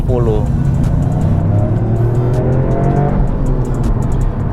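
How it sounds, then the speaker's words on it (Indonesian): Toyota GR Yaris with its 260 hp three-cylinder turbo engine, heard close up as the engine revs and climbs through gears with a throaty drone, while a person talks over it. "Nggak akan hilang sih suara khas dari 3 silinder."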